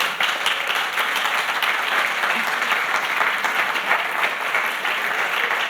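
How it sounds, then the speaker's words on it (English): Audience at a welcome ceremony for America's Cup teams at a nautical show gives a loud, dense round of applause, continuous crowd clapping throughout. "A big round of applause, please,"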